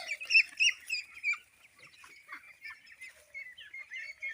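Young white ducks on a duck farm give a run of quiet, thin, high-pitched calls and chirps, overlapping irregularly from close by, with no voices.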